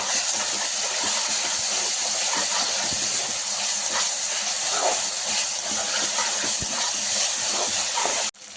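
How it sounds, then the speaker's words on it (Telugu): Ginger garlic paste frying with vegetables in a pan for semiya upma, a continuous loud hissing sizzle with occasional crackles and spoon scrapes, cutting off abruptly at the end. "ఇప్పుడు దీంట్లో ఒక 1/2 స్పూన్ అంతా జింజర్ గార్లిక్ పేస్ట్ వేసి ఫ్రై చేసుకోవాలండి, స్మెల్ పోయే వరకు."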